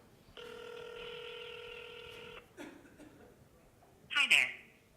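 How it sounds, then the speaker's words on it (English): A number dialed on a cell phone during a contact-center demo: a steady electronic tone rings for about two seconds, followed by a short blip and then two quick louder beeps near the end, faint room sound between. "So I'm dialing a phone number now."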